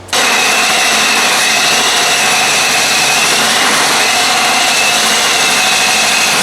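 A hole saw cuts a notch into an exhaust manifold to seat 2.5 inch tubing, giving a loud, steady, continuous grinding whine that runs unbroken for the whole stretch, close by and with no talking.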